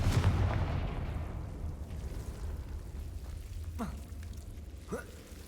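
Explosive fire spell blasts in Hogwarts Legacy, a heavy boom at the start fading into rumble, followed by two sharper whooshing bursts, with a voice speaking over the game sounds.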